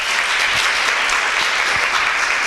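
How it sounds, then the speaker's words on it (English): Audience applause at a mentoring network event for young female journalists, a dense steady clapping from a crowd, loud and sustained throughout. "big applause to our mentees today"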